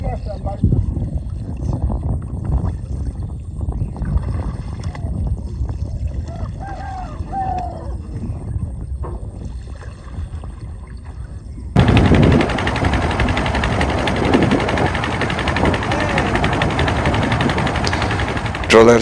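A fishing trawler's engine starts and the boat gets underway on a small canal in Bangladesh, heading toward the Padma River. A steady, loud motor drone runs throughout, growing louder and harsher partway through, with some voices underneath.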